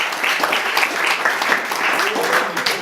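A short round of clapping from a crowd at a high school 30 Plus Club luncheon in Millington, steady and fairly close, with a voice heard faintly beneath.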